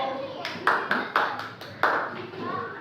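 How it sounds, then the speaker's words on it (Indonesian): Brief bursts of classroom applause for a student group called Mercury, several uneven clap flurries over a background of voices in a school lesson setting. "sekali lagi kita kasih tepuk tangan untuk kelompok Mercury"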